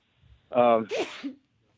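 One sharp sneeze close to the microphone in a quiet radio studio, followed by a brief spoken response.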